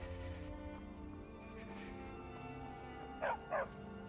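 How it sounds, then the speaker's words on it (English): A dog in Skyrim gives two short, sharp barks close together near the end, over a steady bed of game music and ambience. "Stupid dog."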